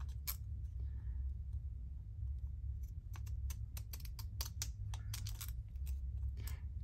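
Crunchy craft scissors snip through paper ephemera along a drawn line, giving a run of sharp, close clicking cuts in irregular bursts over a low steady room hum.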